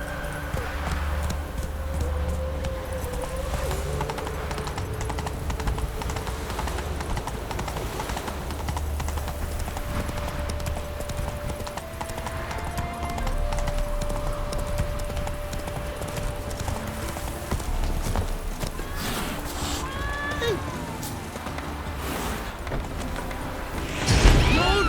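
Horse galloping under a rider in The Witcher 3, a rapid continuous clip-clop of hooves beating steadily throughout, with game music and brief effects near the end.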